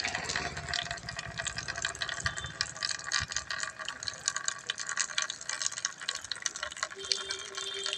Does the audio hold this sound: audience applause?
no